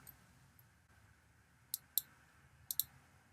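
Computer mouse clicks sound softly and close up, two quick pairs of light taps about a second apart over a quiet background hum.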